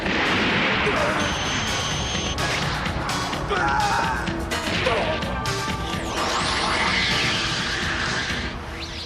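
A gun blast goes off aboard a spaceship in an anime, a loud crashing impact followed by clattering debris and whooshing effects, with voices mixed in.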